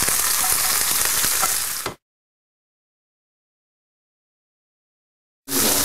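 A hamburger fries in its own grease with a loud, steady, crackling sizzle that cuts off abruptly into silence and then returns just as loud near the end.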